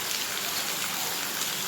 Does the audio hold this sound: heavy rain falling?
yes